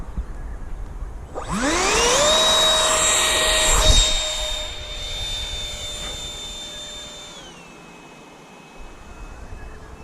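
A small airplane engine winds up from quiet into a loud, steady whining roar, holds for several seconds, then its pitch steps down and the sound fades lower, heard alone without speech.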